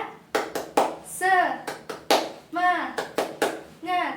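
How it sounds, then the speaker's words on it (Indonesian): Children in a school class clap a short rhythmic chant pattern in bursts, their voices calling out between the claps, close and lively. "yuk kita tepuk semangat 2 kali"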